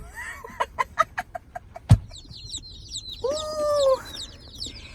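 Hatchery chicks peep in a shipping box in a series of rhythmic high chirps, followed by a brief thump and a louder, longer run of peeping calls, fairly close.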